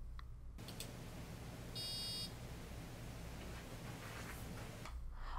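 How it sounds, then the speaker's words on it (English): A short, steady electronic buzzer tone sounds once, faint, against a low hum of background noise. "The standard Finch Buzzer block plays the buzzer with the sound of the frequency specified for the time specified"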